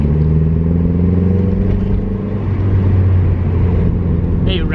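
A Mazda MX5 fitted with an M2 Motorsport exhaust idles and revs in a steady, close, low engine drone with a droning exhaust note throughout; a brief high honk-like sound comes near the end.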